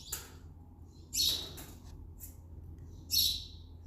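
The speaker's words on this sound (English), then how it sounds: "I don't know how I'm going to get all these birds out of the shop before I go home today." Birds trapped inside a woodworking shop give a few short, bright chirps spaced apart, with two louder calls standing out against a quiet, low room hum.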